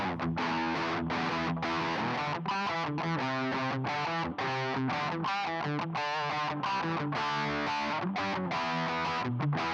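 Distorted electric guitar through a Boss ME-90, with a nasal, fixed cocked-wah honk, played in choppy rhythmic bursts of chords and notes, loud and steady throughout.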